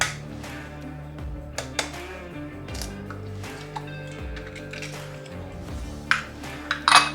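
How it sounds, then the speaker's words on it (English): A whisk clinks and scrapes around a bowl of granulated sugar, concentrated lemon juice and one egg, with soft, irregular metallic taps and rattles at close range and no talk. "We'll get all this whisked together."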